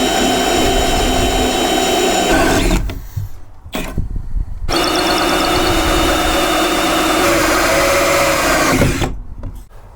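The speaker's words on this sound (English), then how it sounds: "let's go ahead and drill some holes and run these lines over to the other side" A power drill fitted with a hole saw cuts through the framing of a van in long loud bursts of whining, grinding rotation, separated by short pauses before the drill starts again.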